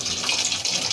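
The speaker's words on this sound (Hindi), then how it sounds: "यहाँ तक पानी भर जाएगा इस निशान तक, तब हम कपड़ा धुलना शुरू करेंगे" Water gushes steadily from a tap into the tub of a semi-automatic washing machine, a continuous hissing pour, near and even, with no talking.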